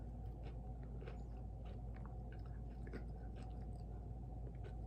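Close, quiet chewing of a crunchy peanut butter Girl Scout cookie, with repeated soft crunches over a low steady room hum.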